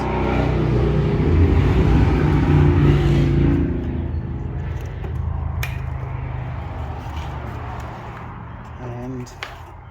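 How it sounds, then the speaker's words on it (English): Motorbike engines rev and rumble as they pass, loud at first and then fading into a lower drone, with occasional clicks nearby. "There seem to be people playing noisy buggers on motorbikes at the moment."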